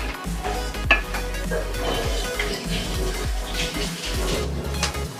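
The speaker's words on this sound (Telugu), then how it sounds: "ఆనియన్స్ ఫ్రై అవుతున్నాయి." Onions frying in a pan for a fish and brinjal tamarind curry, a steady close sizzle with occasional clinks and stirring scrapes of a utensil against the pan.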